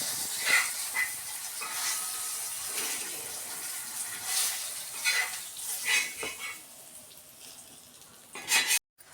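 Fish fry sizzling and hissing in a hot pan with curry leaves, steady frying crackle close by with brief stirring scrapes, ending in a sharp clatter.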